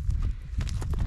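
A mare's hooves clip-clop in quick, uneven beats on the ground, close and fairly loud against a rumbling low background.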